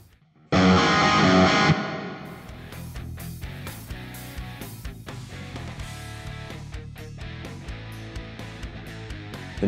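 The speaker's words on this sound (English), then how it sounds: "A few minor tweaks can really change the whole shape of your distortion sound here." Heavily distorted electric guitar chords, loud and saturated at first, then continuing as a dense, gritty riff at a steady level.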